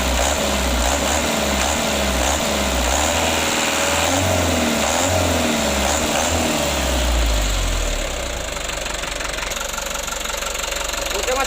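A Mitsubishi Canter HD125 truck diesel engine after Bosch tuning revs up loudly and close, with a knocking rumble that rises and falls through several bursts of throttle before settling toward idle.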